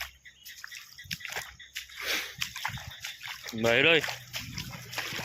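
Water floods into a farm field, sloshing and splashing in short bursts while someone talks and calls out over it.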